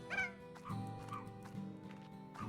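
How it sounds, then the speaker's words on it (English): Cartoonish dog barks and yips from a video game, a few quick bursts near the start and again around the middle, mixed with game music and effects. "Bark, bark!"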